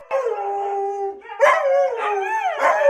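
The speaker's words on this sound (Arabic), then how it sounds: "شوفوا رد فعل الكلاب دي لما صديقتهم قربت للبيت" Several dogs howl and yelp together in rising, wavering cries as their returning friend approaches home, loud and close with no talk.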